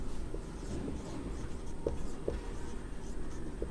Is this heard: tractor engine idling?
no